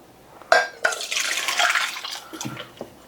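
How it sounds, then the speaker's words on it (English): A cooked onion mixture is poured from a pan into a bowl, giving a short wet splashing pour of a few seconds with a couple of soft knocks at the end, close by, with no talking. "I'm going to pour it in a bowl."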